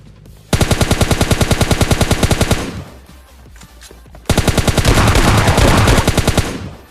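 Loud, rapid automatic gunfire in PUBG Mobile Lite, two long sustained bursts of evenly spaced shots separated by a brief pause, close and dominant with no talking.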